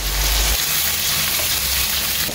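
Tomatoes with a little salt cook on the stove in a pan, giving a loud, steady, close sizzle and frying hiss that runs the whole time, with a brief low stir or thump at the start and no talking.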